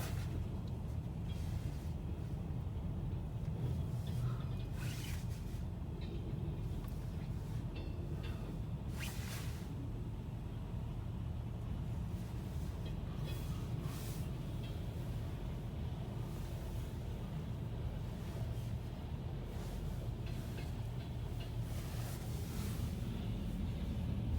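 A long, steady low rumble of a passing Norfolk Southern freight train carrying maintenance equipment, with faint rhythmic clatter and occasional brief clanks continuing throughout.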